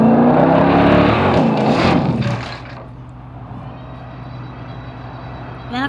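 A car crash in the Drive Zone Online car simulator game: a loud, dense grinding roar lasts about two seconds, then settles into a steady, low idling engine hum with a brief sharp noise at the end.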